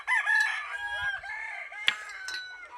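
A rooster on a farm lets out one long, loud crow at close range, followed by a few quieter clucks and calls from nearby chickens.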